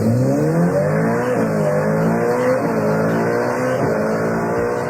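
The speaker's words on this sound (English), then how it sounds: "revs, soprano, thrilling, metallic sounds" A Ferrari SF90 Spider engine revs loudly and continuously, its pitch climbing and dipping through several rising sweeps with a high, metallic edge, no voices over it.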